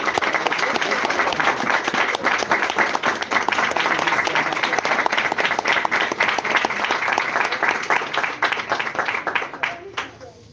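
A church congregation claims loudly and steadily for about ten seconds, a dense crowd of hands that tapers off near the end.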